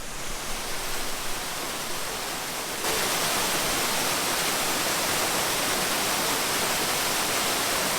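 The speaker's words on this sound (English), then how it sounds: "Made it back to the waterfall." Waterfall at a remote trail spot pours as a steady broadband rush, growing louder and brighter partway through as if moving closer, continuous with no voices.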